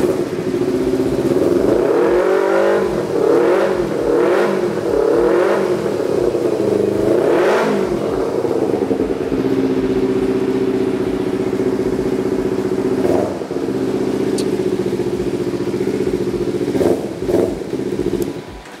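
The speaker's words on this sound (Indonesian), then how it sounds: "itu dia suara dari motor cafe racer yang super ganteng basicnya dari Kawasaki Ninja ini" A Kawasaki Ninja 250 cafe racer motorcycle engine idles with a low steady rumble, revved sharply several times in short bursts before settling back to idle, close and loud.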